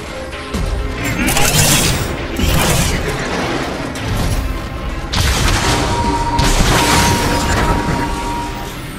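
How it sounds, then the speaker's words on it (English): Heavy weapon blasts hit locks in a Transformers video game: loud booming impacts and metallic crashing in repeated bursts, with mechanical clanks and rumbling in between. "Blast those locks!"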